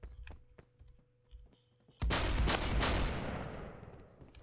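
A shotgun in the Roblox shooter Phantom Forces fires a single loud, booming blast with a long fading tail, after a stretch of soft clicks and light thumps from the game.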